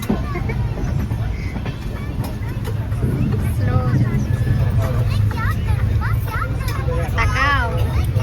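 A passenger train waits at a busy Bangladeshi station before departure, with a steady low rumble of engine and carriages under crowd babble, whistles and voices talking nearby throughout.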